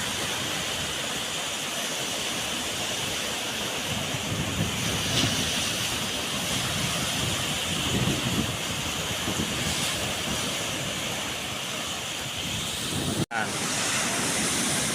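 Surf from a rough sea whipped up by the strong northeast monsoon, waves nearly two meters high, rolling in as a steady loud roar with wind buffeting the microphone and brief dropouts near the end.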